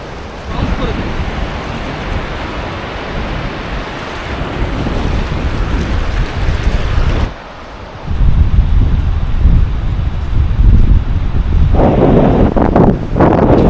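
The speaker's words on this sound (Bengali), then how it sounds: "সমুদ্রের প্রচুর ঢেউ দেখতে পাচ্ছেন আপনারা। প্রচুর হাওয়া চলছে, যার জন্য ঢেউ কিন্তু একেবারে ভীষণ" Loud, steady roar of ocean surf at an Andaman Islands beach, with strong wind buffeting the microphone, briefly dropping quieter before surging back in heavy waves.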